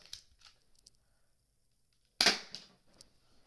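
An airsoft gun fires during target shooting: one sharp, close crack stands out midway, with a few faint ticks and clicks before and after it.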